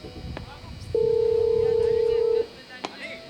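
A steady telephone dial tone sounds loud and close for about a second and a half, cutting off abruptly, with faint voices and background murmur around it at a cricket match.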